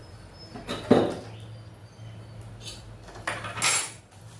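A heavy metal wok clanks down onto a stovetop, followed by lighter metallic clinks and scrapes in a quiet kitchen.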